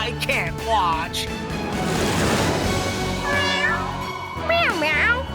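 A cartoon cat meows several times in a children's animated show, the short rising and falling cries coming close and clear at the start, middle and end, with a brief burst of busy noise between them.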